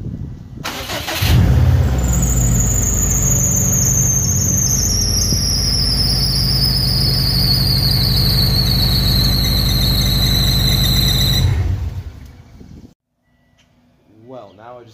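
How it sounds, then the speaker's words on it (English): Car engine starts and runs with a loud, continuous high-pitched belt squeal over its idle for about ten seconds, then the engine cuts off abruptly into near silence. "Well, now I just have an annoying belt squeal."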